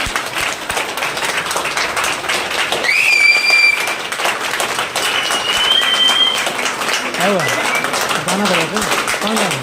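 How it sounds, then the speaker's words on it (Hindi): Audience applause at a celebration function in Makhdumpur, a steady crowd clapping that runs the whole time. A loud voice talks over it throughout. "जोरदार तालियां, जोरदार तालियां, जोरदार तालियां।"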